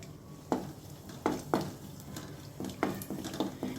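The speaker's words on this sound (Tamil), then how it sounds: "இப்போ பாருங்கள், திராட்சை நல்லா பொரிஞ்சிடுச்சு" Raisins frying in hot ghee in a pan while rice flour laddoos are made, with a low steady sizzle broken by several sharp spoon clinks and scrapes against the pan, fairly quiet and close.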